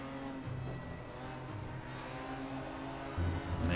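Audi and BMW GT4 race cars run close together in a racing video game at Watkins Glen, their engines a faint, steady droning hum with slight rises in pitch as the cars accelerate.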